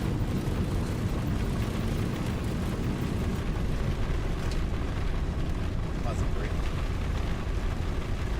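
A Boeing 737-800 takes off in the X-Plane 12 flight simulator, its engine roar a loud, steady, broadband rumble that holds throughout, with a pilot speaking callouts over it.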